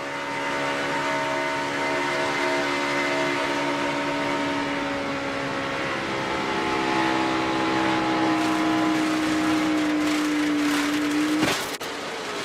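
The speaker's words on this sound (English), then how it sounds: "Let's ride along and listen to this tire go away" A NASCAR truck races at speed with a failing tire, the engine holding a steady drone for several seconds before a sudden break near the end, with brief impact noise.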